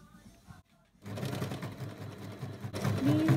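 A sewing machine stitches bias binding onto a garment neckline, a steady continuous whirring run that starts after a brief pause and holds close and fairly loud to the end.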